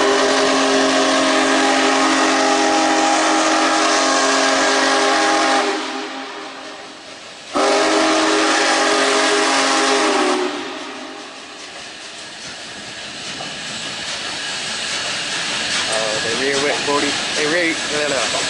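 Union Pacific Big Boy 4014 steam locomotive crossing the Huey P. Long Railroad Bridge in New Orleans, a loud broad rush of steam and rolling rail noise that cuts out briefly and returns, then fades into distant rumble.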